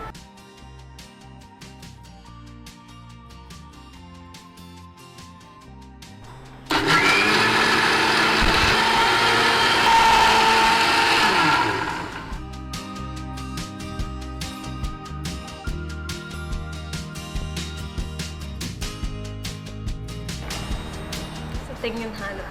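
A kitchen mixer grinder whirs loudly for about six seconds, grinding coconut and sugar into paste, starting and stopping abruptly amid background music and conversation before and after.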